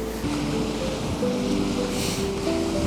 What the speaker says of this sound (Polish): Fale pięknie się tu rozbijają.